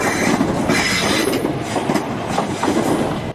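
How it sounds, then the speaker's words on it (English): British Rail Class 442 Wessex Electric third-rail train running at speed, a continuous close roar of wheels on track with rhythmic clatter and rumble, no voices. "This makes the 442 the world's official fastest third rail powered train."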